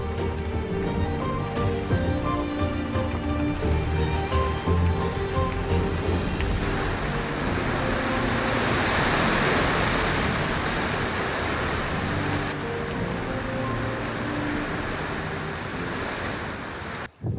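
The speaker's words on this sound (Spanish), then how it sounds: "esperamos que siga lloviendo aún hasta cerca del mediodía." Steady rain drums on the roof of a shed during a strong storm in Estonia, a dense continuous hiss that swells slightly midway and carries on without speech.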